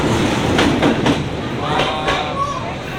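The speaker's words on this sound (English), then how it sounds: "We got extremely lucky and we're getting to see the train right here." A train rolls close past a roadside coffee shop in Hanoi with loud, steady rail rumble and rhythmic clickety-clack of wheels, a faint squeal rising near the end.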